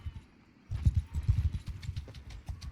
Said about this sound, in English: there's a lot of horses here you can buy